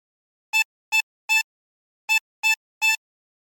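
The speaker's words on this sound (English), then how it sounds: "how to play the theme tune to the popular Netflix show Squid Game, and how to play it on a chromatic harmonica" A chromatic harmonica plays the Squid Game theme phrase as six short, bright notes in two groups of three, close and clean against silence.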